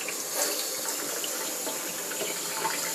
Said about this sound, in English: I'm actually going to put it under warm water